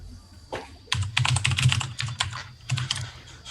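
Rapid, clattering keystrokes on a loud, clacky computer keyboard, typed in quick bursts with brief pauses, close and crisp with no talking.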